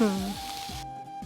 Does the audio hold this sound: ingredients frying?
yes